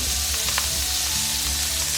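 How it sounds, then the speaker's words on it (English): Vegetables tossed back into a hot wok with cooked eggs, giving a steady, close hiss of frying with a few faint clinks of stirring early on. "So now we're going to add our veggies back into the wok,"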